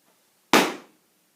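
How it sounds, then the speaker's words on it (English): One firm foot stomp lands with a sudden thud and quick fade, heard alone against silence. "That was a stomp."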